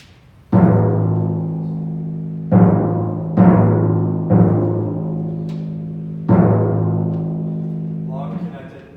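Sustained pitched tones struck five times at uneven intervals, each ringing long and connected into the next, loud and close with no talking.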